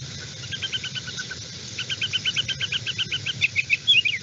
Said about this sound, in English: the kind of noise you get just from birds and insects